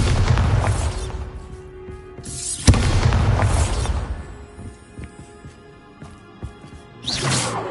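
Bombarda blasting spell detonating in the Hogwarts Legacy video game: a loud explosive boom with rumbling debris, followed by a second sharp blast, fading into crackling aftermath and a final burst near the end.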